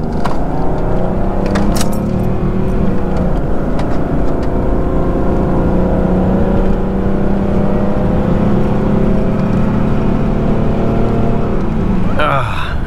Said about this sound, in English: I'm just gonna smash the throttle, hit start, and let's see what goes.